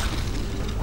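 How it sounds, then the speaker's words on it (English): A huge explosion in the video game Skyrim, a dense, loud, rumbling boom filling the whole moment with no pause or decay. "Oh, huge explosion."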